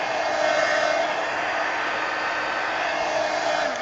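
A heat tool blows steadily while drying art journal pages, a continuous loud whooshing hum of hot air that runs unbroken from start to finish with no talk.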